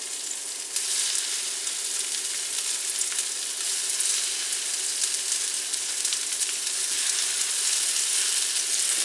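Four large black bean burger patties sauté in a hot skillet, producing a steady, dense sizzle that holds evenly throughout with no voices.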